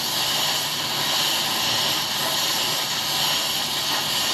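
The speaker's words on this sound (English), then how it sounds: "I like to blow off the back of the bolt, and then you can just punch it through after" Oxy torch blowing off the back of a bolt, a steady loud roaring hiss of gas and flame held evenly throughout with no talk.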